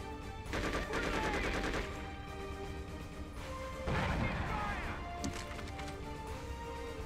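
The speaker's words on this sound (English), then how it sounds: "a freaking grenade thrown at me" Grenade blast in the video game Conflict: Desert Storm 2, a loud burst of crashing impact noise heard twice in close succession over constant battlefield gunfire and game sounds.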